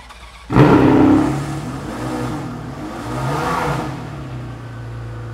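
A 2003 Ferrari Enzo V12 fires up with a sharp burst, then settles into a loud, steady idle that swells once more in a brief rev before dropping back, heard up close with no talk.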